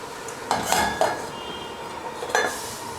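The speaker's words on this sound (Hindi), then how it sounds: "इसको अब थोड़ा सा हम ढककर पकाएंगे" A metal lid goes onto a pot of qahwa (tea) on a high flame with a few close, sharp clanks and clinks. There is no talking.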